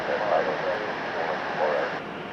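A Boeing 737-700 rolling for takeoff at LAX, a steady jet engine roar heard from a distance, swelling and easing slightly, under faint background chatter.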